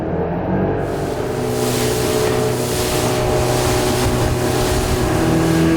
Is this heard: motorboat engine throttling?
yes